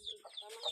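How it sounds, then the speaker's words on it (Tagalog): Domestic chickens cluck in short bursts near a hillside farm hut, a few close, soft calls scattered across a brief moment of outdoor quiet. "Maraming maalaga pala dito ng mga manok."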